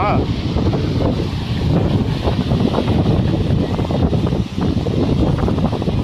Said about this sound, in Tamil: அந்த அளவுக்கு ஹெவி காத்துங்கங்க